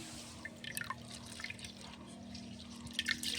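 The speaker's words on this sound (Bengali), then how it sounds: "মসুর ডালটা ভালো করে 2-3 বার করে ধুয়ে নেব।" Red lentils being rinsed in water for a dal, with soft irregular drips and small splashes over a steady low hum, fairly quiet and close with no talking.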